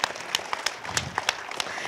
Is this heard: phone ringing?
no